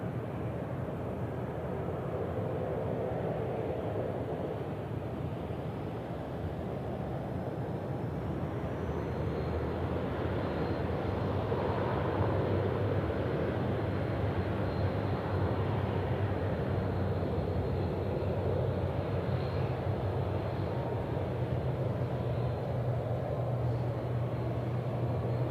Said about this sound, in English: Q-Link Dash 8 there, just rotating 16 right down to Canberra tonight